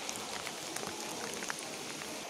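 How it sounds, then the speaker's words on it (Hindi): Heavy rain pouring down at an outdoor NCC cadet gathering in Deoria, a dense, continuous hiss of drops with scattered sharper splashes, steady and fairly close throughout. "इतनी ज़ोरों से बारिश हो रही है"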